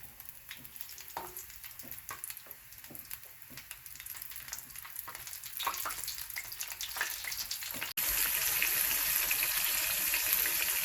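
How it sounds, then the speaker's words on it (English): Fish frying in heated oil, with crackling, popping sizzle that turns into a dense, loud hiss partway through as the fish goes into the oil. "The oil is heated. I'm going to place the fish into the oil."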